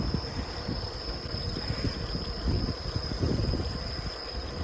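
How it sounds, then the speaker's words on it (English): A continuous high-pitched cicada drone hums steadily over a windy, rumbling outdoor background while cycling near Kanazawa, Japan, in the evening. "You can hear the cicadas."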